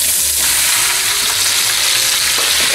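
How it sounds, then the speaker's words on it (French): Courgette pieces fry in oil heated until smoking, over deliberately high heat, giving a loud, steady, dense sizzle that runs continuously with no voices. "L'huile commence à fumer, j'ai détaillé toutes les courgettes en morceaux, donc c'est parfait, je vais les mettre dans l'huile chaude."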